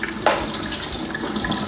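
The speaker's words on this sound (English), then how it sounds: "you just want to go on and add some ice cold water to stop the cooking process" Ice-cold tap water runs steadily over cooked noodles in a colander, a continuous close splashing rush with a brief sharper splatter near the start.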